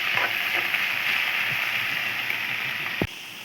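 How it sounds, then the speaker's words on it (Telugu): Onions fry in hot oil for a chicken fry dish, giving a steady broadband sizzle that stays loud and even throughout, with a few soft stirring knocks and a brief clatter near the end. "ఇప్పుడు ఆయిల్ కాగింది కదండి మనము ఆనియన్స్ వేసి వేపేసుకున్నాం అది కొంచెం వేగాలి"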